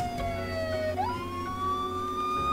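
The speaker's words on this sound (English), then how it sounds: "And I see a fire engine, okay." A fire engine siren in the video game Brick Rigs wails steadily and close, its tone sweeping down and then rising again. Low vehicle rumble sits under it, and nobody talks.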